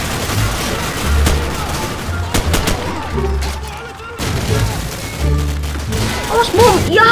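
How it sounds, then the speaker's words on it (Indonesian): Gunfire and bomb blasts in Call of Duty 4: Modern Warfare, with sharp shots in bursts and heavy booms arriving irregularly, loud and close, under a voice speaking. "Mati lagi kena bom"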